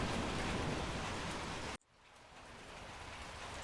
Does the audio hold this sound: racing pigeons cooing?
no